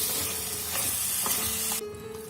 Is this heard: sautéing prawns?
yes